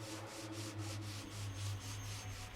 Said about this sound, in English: I think it's the sound of her sanding wood